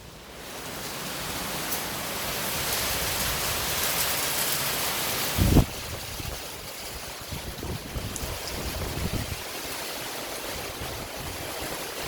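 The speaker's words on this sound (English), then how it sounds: "Listen to the rain outside." Steady heavy rain falls outside a house in Ubud, Bali, a broad continuous wash of close, even patter with one brief louder knock midway.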